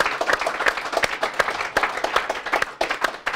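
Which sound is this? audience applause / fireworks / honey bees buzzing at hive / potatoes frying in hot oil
audience applause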